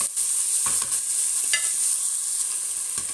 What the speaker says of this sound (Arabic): ونبقاو نقلبو في هاد البصله حتى تتحمر لنا.